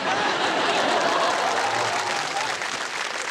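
Steady, dense applause from a studio audience at a televised quiz show fills the stretch at an even level, with light crowd murmur and a chuckle or two underneath.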